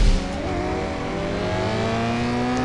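A Toyota GT86 engine revs in the racing game CSR 2, a loud, steady droning whine holding high under acceleration with a slight rising pitch, close and continuous without speech.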